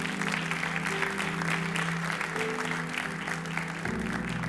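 A church congregation applauds during a sermon, a continuous full wash of clapping with faint music or voices underneath, easing slightly near the end.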